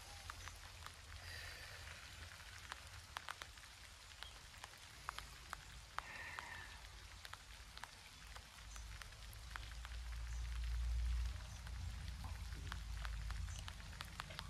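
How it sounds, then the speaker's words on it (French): Light rain falls steadily outdoors as a soft continuous patter with scattered drop ticks, a low rumble swelling briefly midway, no voices. "pour la vidéo, j'ai un peu de pluie mais que c'est triste"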